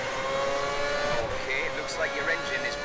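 Mercedes Formula 1 car in the F1 2010 racing game on the Abu Dhabi circuit, its engine note whining and dropping as it brakes hard for a corner, with a commentator's voice running over it.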